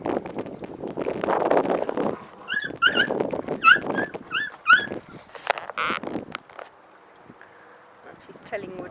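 Two mother dogs playing together like puppies, with scuffling movement, short high whimpers and yelps in bursts, a few sharper squeals, and quieter pauses between bouts.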